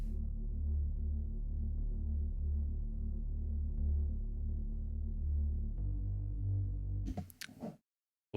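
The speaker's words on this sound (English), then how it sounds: "I actually added another bass, which is just a basic Reese playing the root notes of the main chords right here in green." A basic Reese bass synth holds deep, sustained root notes under house chords, a thick low drone that steps to a new pitch partway through and then cuts off abruptly into silence.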